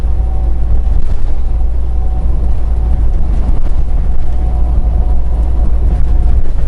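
Steady, loud truck engine rumble and road noise in Milwaukee, Wisconsin, a continuous low drone that fills the whole stretch with no voices.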